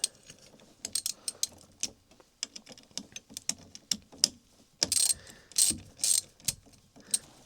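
Rapid clicking bursts of a ratchet wrench turning an 8mm socket on a bolt of a 1971 BMW 2002 during heater box installation, close and crisp, in repeated short strokes with brief pauses.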